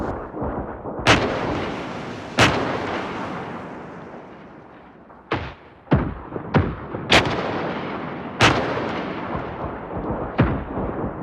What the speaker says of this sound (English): The second one's actually firing those 4 shots without... So they're just firing, reloading, firing.